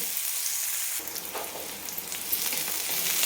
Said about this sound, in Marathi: तर आपला हा कांदा परतून होतोय